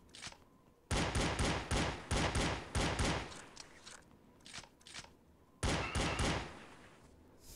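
Gunfire in the PC shooter Eva Cash: D.I.R.T. Project: two loud bursts of rapid shots, a long one followed by scattered single reports, then a shorter burst, with no talking.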